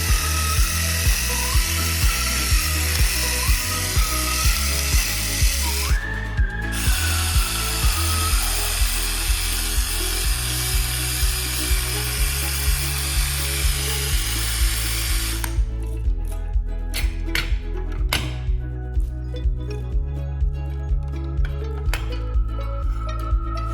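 Motor of a battery-operated salt and pepper grinder running continuously, a loud buzzing whir with rhythmic pulsing from the grinding mechanism, with brief pauses and changes in pitch partway through.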